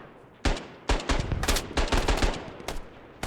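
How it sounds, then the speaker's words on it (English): RK-62 assault rifle fire in a combat video game: sharp, loud shots in quick irregular bursts, several cracks close together over a few seconds with brief gaps between. "Good shot with that RK-62"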